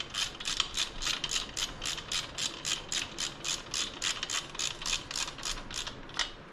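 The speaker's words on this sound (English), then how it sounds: "what I normally do is I'll run these in with the ratchet and then I will torque them" A hand ratchet runs bolts into the cam chest of a 2018 Harley-Davidson Street Glide, making steady rhythmic clicking strokes, about fifteen evenly spaced bursts close to the mic.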